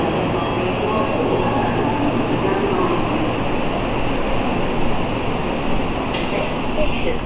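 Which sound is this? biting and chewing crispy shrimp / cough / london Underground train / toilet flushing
london Underground train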